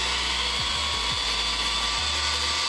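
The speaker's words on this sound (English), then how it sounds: "as long as you just kind of dance with the polisher and you're nice and super smooth, it'll do what it needs to do" A rotary polisher buffs the paint of a Ferrari 512TR supercar with a loud, continuous high whine and small dips in motor pitch as it works the panel.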